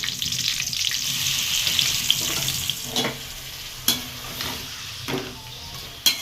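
Garlic and whole chillies sizzle steadily in hot oil in a pan for tomato pickle, a bright continuous hiss broken by a few sharp clinks of a stirring spoon.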